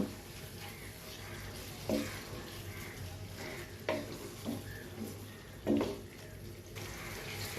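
Spices being stirred and mixed in a pot for Dhaka-style beef biryani, a soft continuous scraping and shuffling with a few louder spoon knocks against the pot, over a faint steady background hum.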